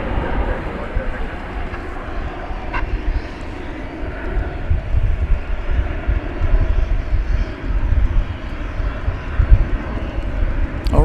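An airplane at DFW Airport at night, a continuous loud, broad engine roar rumbling steadily throughout, swelling slightly toward the end.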